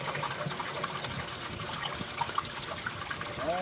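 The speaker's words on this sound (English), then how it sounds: "Hear the water running out." Water drains out of an RV black tank valve, a steady rushing, trickling flow that holds at an even level throughout, close by.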